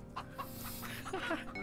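Chicken in the Bee Simulator game clucking in a few short, choppy bursts over a faint steady background hum, near and moderately quiet.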